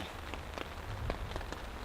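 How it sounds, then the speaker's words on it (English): Light misty rain falls steadily on a campsite at dusk, a soft continuous hiss with scattered faint droplet taps and no talking. "For now, it's just a misty light rain."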